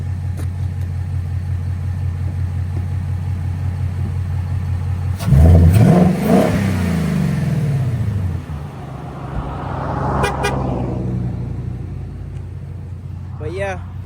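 A 2024 Ford Mustang GT with a Steeda intake and its carbon traps removed idles with a low rumble, then snaps into a loud, close rev that falls away. A second, shorter rev follows a few seconds later.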